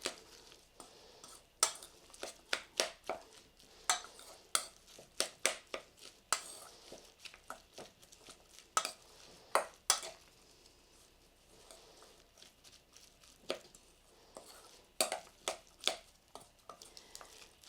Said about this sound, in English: It's time to mix it up until it's all mashed in real good.